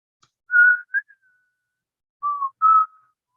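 A person whistles a short tune alone, four clear whistled notes in two pairs separated by a pause, fairly close and moderately loud.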